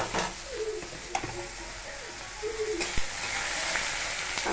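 Potatoes and onions go into hot oil with mustard seeds and curry leaves and sizzle steadily and loudly up close. A few sharp clicks of a utensil stand out, and faint bird coos sound in the background.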